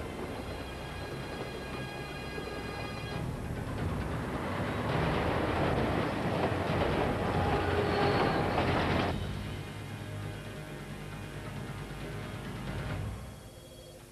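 A speeding train rolls on rails with a loud, continuous roar that swells in the middle and then eases back to a steady rumble, with no voices.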